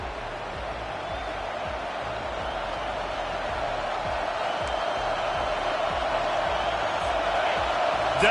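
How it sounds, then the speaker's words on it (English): A stadium crowd roars for the defense on third down in College Football 25, a broad, steady wash of cheering that swells louder toward the end, with no talk over it. "Decibels rising as the crowd gets behind this defense on 3rd down."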